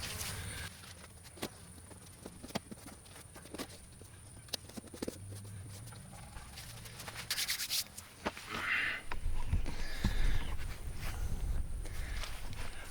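Rag wiping excess silicone from around an RV level mounted without screws, heard as soft irregular rubbing and scuffing strokes close by, growing louder and denser toward the end, with no talking.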